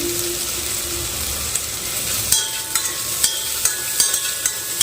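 Vegetables for a baby's vegetable kichdi frying in a pan, a steady close sizzle with scraping stirs and sharp ladle taps against the metal, alone without talk.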